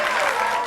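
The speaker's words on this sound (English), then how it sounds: "notice the crowd applauding" A studio audience at a talk show bursts into applause, a dense, loud, continuous clatter of many hands clapping close by.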